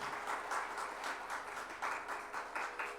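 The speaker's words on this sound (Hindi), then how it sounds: "जोरदार तालियों से एक बार मोदी परिवार के लिए।" A crowd at a religious discourse gathering claps in rhythmic pulsing waves for the Modi family, steady and moderately distant, with no talk over it.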